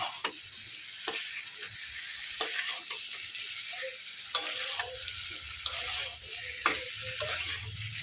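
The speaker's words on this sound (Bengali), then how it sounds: "এবারে এর মধ্যে আমি ভেজে রাখা আলু আর কাঁঠালের বীজগুলো দিয়ে দেবো ভালো করে কষিয়ে নেবে" Fried potatoes and jackfruit seeds are stir-fried in masala in a pan. A soft continuous sizzle runs underneath while a spatula scrapes and knocks against the pan at irregular intervals.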